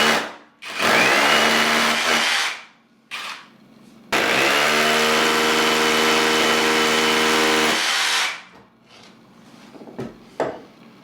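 A power drill bores holes in a wall for radiator brackets, in loud whining bursts: a short run, a brief pause, then a longer sustained drilling of about four seconds before stopping, followed by quieter handling knocks.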